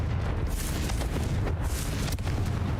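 Confringo fire spell explosion in Hogwarts Legacy, a dense rumbling burst that sustains across the clip with a few sharper pops, loud and close, no talk.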